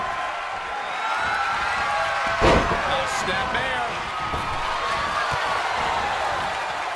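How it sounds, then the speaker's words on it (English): A WWE 2K23 wrestling arena crowd roars steadily in a wide, loud wash around a tag-team match, punctuated by a sharp slam thud, while a commentator talks over the noise. "The sound of this crowd is deafening, and he's asking for more"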